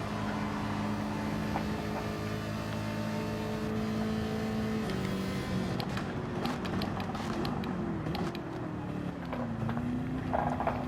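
Race car engines in Gran Turismo 7 drone and rev continuously on track, a steady loud roar with pitch rising and falling through gear changes, plus occasional brief clicks and knocks, with no voices.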